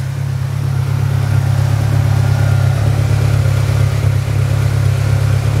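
A 2009 X-18 Predator long-travel sand car idles through its dual exhaust muffler, a loud, steady low rumble that holds evenly throughout with no revving.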